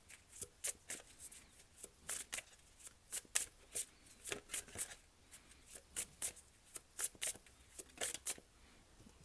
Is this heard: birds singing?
no